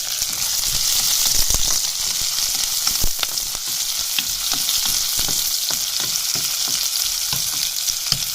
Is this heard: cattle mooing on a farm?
no